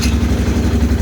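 A Polaris Sportsman 500 ATV engine idles steadily nearby with a low, even, throbbing rumble and no talk over it.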